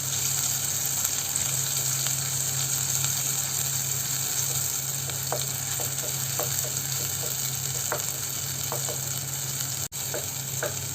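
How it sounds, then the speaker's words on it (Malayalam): Masala sizzles steadily in hot oil in a pan for a Thrissur-style sardine curry, a soft constant fry with occasional light spoon scrapes and clicks from stirring. "അങ്ങനെ ഇത് ചേർത്തിട്ട് നമുക്ക് ഇതിനെയും കൂടെ ഒന്ന് നന്നായിട്ട് വഴറ്റിയെടുക്കാം."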